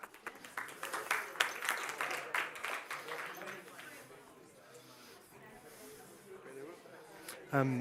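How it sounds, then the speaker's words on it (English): Audience applause for a roundtable panel as panelists take their seats, a burst of clapping up front that thins and fades into quieter room noise, with a brief louder sound at the end. "A big applause to our panelists."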